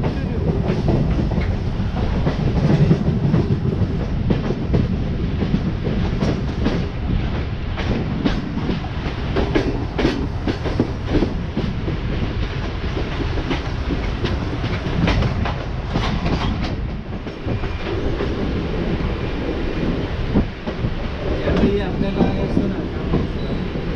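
A MEMU local train runs steadily on the rails, a continuous loud rumble with rhythmic clickety-clack of the wheels for the whole stretch.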